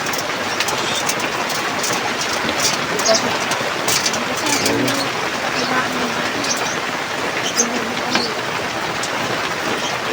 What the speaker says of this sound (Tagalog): pasensya na kung umuulan